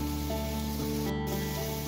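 Chicken frying in a pan covered by a splatter guard, a steady close sizzle that continues without a break and with no talk.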